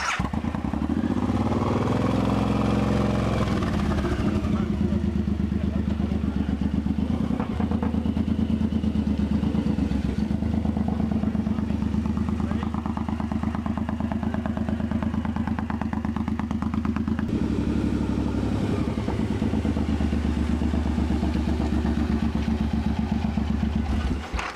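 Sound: motorcycle riding

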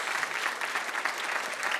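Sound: audience applause

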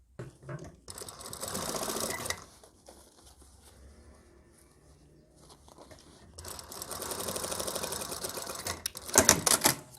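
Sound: sewing machine stitching hat fabric

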